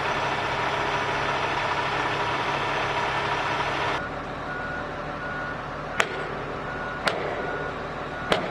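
Huge forklift loading a heavy transmission tower segment onto a flatbed trailer, a steady loud diesel engine drone that drops in level, followed by three sharp metallic knocks spaced about a second apart.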